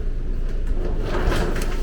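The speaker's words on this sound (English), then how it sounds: "all the Airstreams have this exact same shower door. And it's kind of nice because as you release it," Glass shower door in a 2022 Imagine 17MKE travel trailer sliding along its track as it is released, a continuous scraping rumble close by with no voices.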